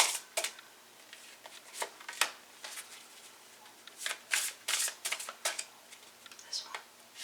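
Tarot and oracle cards, including the Druid Craft Tarot, are shuffled by hand in irregular bursts of crisp riffling and slapping, close and fairly quiet with pauses between.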